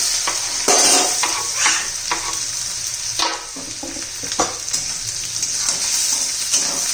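Onion hitting a pan with crushed ginger and garlic for a potato rassa bhaji crackles into a loud, dense sizzle, punctuated by repeated stirring scrapes of a spoon against the pan, near and continuous.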